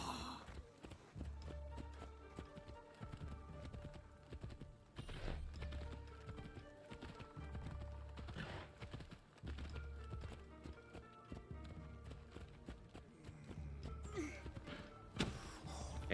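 Horse hooves clip-clop in a steady trot in Assassin's Creed Shadows, faint and rhythmic beneath background game music and ambience, continuing throughout with a few brief louder accents.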